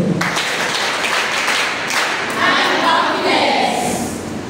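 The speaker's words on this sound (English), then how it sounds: "a round of applause for ourselves." A crowd at a World Menstrual Hygiene Day 2023 charity gathering in Anambra State, Nigeria, breaks into steady, full-room applause that holds for several seconds, with some voices mixed in.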